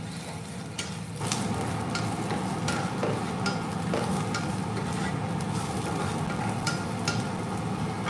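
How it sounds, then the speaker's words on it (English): Braised beef is stirred in a hot pan. A steady, close sizzle of frying runs throughout, with light scraping strokes and faint ticks of the utensil against the pan. "We're going to give this a stir."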